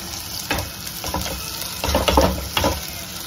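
A spoon scrapes and stirs through a mashed potato mixture with turmeric, garam masala and red chili in a hot pan, in several short uneven strokes over a soft steady sizzle.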